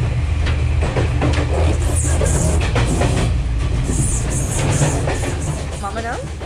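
The Udarata Menike express runs along Sri Lanka's British-era Colombo to Badulla railway, making a loud continuous rumble with rhythmic wheel clatter and a brief squeal near the end, while a voice talks over it.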